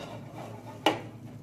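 A thin healthy pancake flipped in a pan, with a single sharp scrape and clatter of a utensil against the pan near the middle over quiet background.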